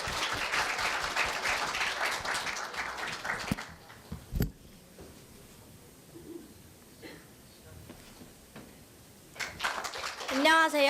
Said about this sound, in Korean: 박수로 환영해 주시길 바랍니다.